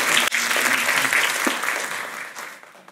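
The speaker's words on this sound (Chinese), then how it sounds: "我们鼓掌一下啊" An audience at a talk breaking into applause, a full, sustained clapping from many hands that gradually thins and fades toward the end.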